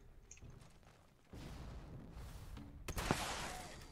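A shotgun firing in the Fallout 76 video game, aimed at the ground against a group of enemies. A muffled boom is followed by a sharper crack and a rumbling tail over the game's background noise.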